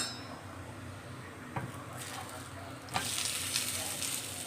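Food sizzles in oil on a griddle at close range, the frying growing louder after a soft knock partway through, with no talking.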